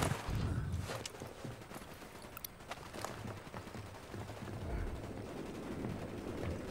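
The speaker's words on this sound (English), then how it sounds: "That small arms fire." Small arms gunfire in the Ghost Recon Wildlands shooter game, heard as scattered bursts and single shots over a dense rumbling game soundscape, with no voices.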